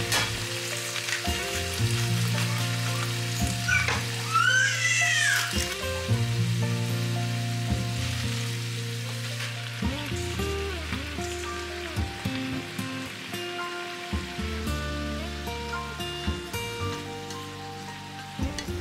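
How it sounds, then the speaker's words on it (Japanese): Sliced pork frying in hot oil in a skillet over medium heat crackles and sizzles steadily up close, with occasional scraping stirs and spatula knocks, and no talking throughout. "油を熱して豚こま肉を加えて中火で炒めます。"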